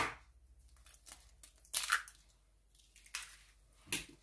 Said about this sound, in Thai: ขยำให้เข้ากันเลยค่ะ